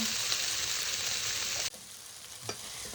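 Aubergine and courgette sizzle steadily in a pan with a bright, hissing fry. Near the end the sizzle drops lower, with a soft clink of stirring.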